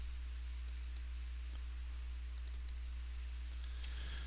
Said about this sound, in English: I'm going to double click my part here.